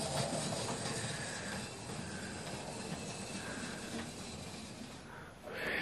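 A Hornby model train locomotive runs steadily over track points, giving a continuous rumbling clatter with faint hiss and light clicks, close and even throughout.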